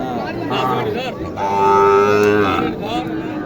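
Cattle at a rural cattle market in Naogaon, Bangladesh, let out a long, loud moo lasting about a second, with shorter lowing around it and faint market chatter underneath.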